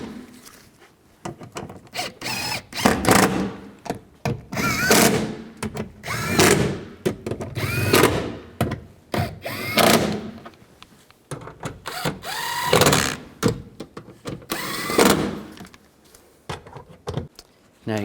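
A power tool drives and tightens bolts on a 2004-08 Nissan Maxima front driver's side window motor, running in repeated whirring bursts with short pauses between them, close and fairly loud.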